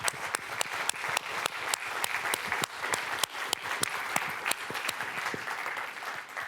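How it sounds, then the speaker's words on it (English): Audience at a school leadership update gives a round of applause, with sharp individual claps standing out over a softer, moderately distant wash of clapping that continues steadily throughout. "thank him by giving him a round of applause"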